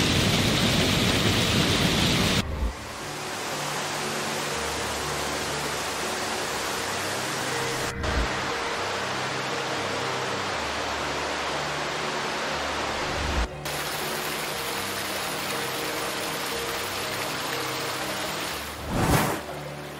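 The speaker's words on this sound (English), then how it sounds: "the thundering cascade of water creates a symphony of mist and rainbows" A thundering waterfall at Iguazu Falls on the Argentina–Brazil border gives a dense, steady roar of crashing water that fills the whole clip, broken by a few brief low thumps, with no voices.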